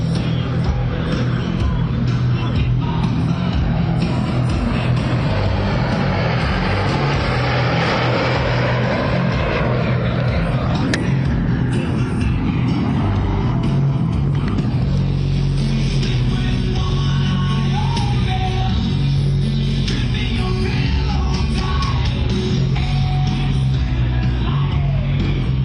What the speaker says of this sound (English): Rocketing in next is a beautifully crisp formation of F-35A Lightning IIs from our steadfast NATO allies, the Royal Netherlands Air Force.